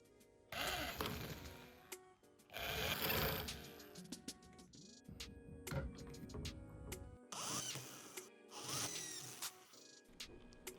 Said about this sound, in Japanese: 万力にちょうど真ん中のところにセッティングを少し強めに締めてあげて、ドリルで穴を開けていくだけです。